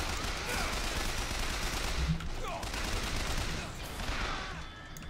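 Dense bursts of rapid gunfire fill a BioShock Infinite firefight, steady and loud throughout with a speaking voice mixed in over the shooting.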